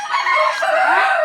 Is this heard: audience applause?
no